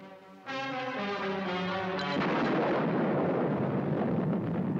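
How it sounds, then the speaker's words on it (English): A steady droning tone suddenly gives way to a loud, sustained, deep rumbling roar of a massive atomic bomb test explosion on a tower in a Pacific lagoon that keeps rolling without fading. "the site chosen by France for her first atomic test explosion in the Pacific"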